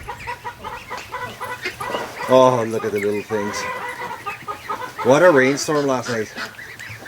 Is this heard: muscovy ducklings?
yes